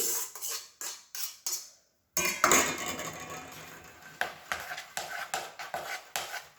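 Tabbouleh and drained vegetables being stirred together in a bowl, with repeated rhythmic scraping and clinking strokes of a utensil, close and clear, a brief pause, then more quick regular mixing strokes.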